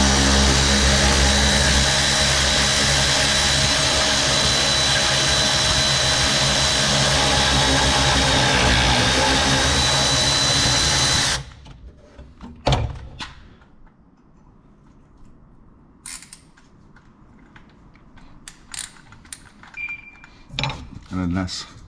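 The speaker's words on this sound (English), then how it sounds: "Got the extension on there, battery ratchet." A battery ratchet with an extension and 40mm socket works on the anti-roll bar of a Ford Mustang, giving a loud, steady whirring drone for about eleven seconds, then stopping and leaving scattered clicks and metallic clunks.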